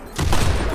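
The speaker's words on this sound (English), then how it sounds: "I'm getting shot at from 5 different directions" Loud video game gunfire, a dense burst of overlapping shots and booms from many directions, filling the brief moment with no voices.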